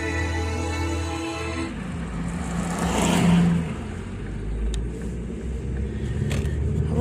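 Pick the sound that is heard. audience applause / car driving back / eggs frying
car driving back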